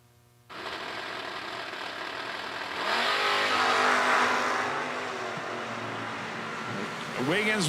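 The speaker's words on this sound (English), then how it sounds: "Cody leaving first in El Camino." An El Camino drag car launches down the strip at a $250K drag racing event, the engine starting abruptly, then rising into a loud sustained roar that swells and eases before another revving whine near the end, with an announcer talking over it.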